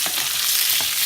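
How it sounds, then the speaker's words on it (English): Steady, bright sizzle of butter frying in a hot pan with braising oxtails, a continuous crackling hiss with a couple of soft stirring sounds. "Let's get that butter a little sizzle"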